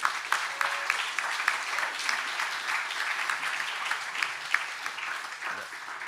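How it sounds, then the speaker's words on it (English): A conference crowd at Nostrica in March 2023 claps in welcome for a speaker, a continuous, fairly loud patter of many hands with a few sharper claps standing out, no talk over it. "Round of applause, please."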